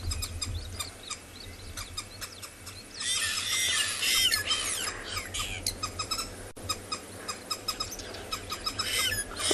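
Green wood hoopoes give repeated squeaky, squealing calls at sunrise on a safari reserve, busy and fairly close, swelling into a loud chattering burst in the middle, with other birds calling in the background.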